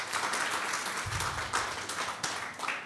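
A church congregation claps together after praising God, a soft, somewhat distant round of applause with a few louder individual claps.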